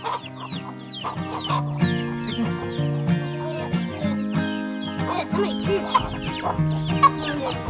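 Several chickens cluck and chatter close by, with busy overlapping calls over a low steady hum.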